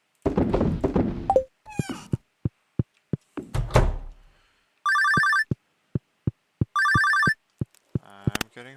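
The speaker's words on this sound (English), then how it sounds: "I'm getting a phone call." A telephone ringing in the farming game Stardew Valley, two long electronic ring bursts separated by a pause, mixed with short game clicks and thumps and no talk.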